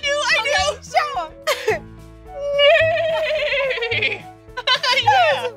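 A voice imitates a horse's neigh with a wavering, drawn-out whinny, surrounded by short bursts of talk from a child and an adult in a playful indoor play setting.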